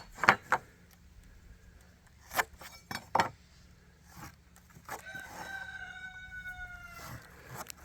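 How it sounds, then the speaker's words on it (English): A rooster crowing once at a farm home, clearly audible but set back from the listener, with a few sharp knocks and clinks just before it. "yes, you are hearing a rooster in the background"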